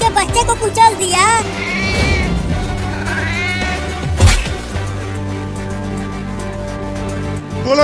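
Cartoon cat meowing in a Hindi comedy scene, a few drawn-out, wavering cries over background music, with voices talking around them.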